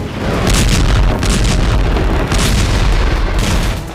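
A deep, rumbling blast from Israeli bombing rolls on and on, a heavy low roar that swells loudly and holds for several seconds with crackling debris on top.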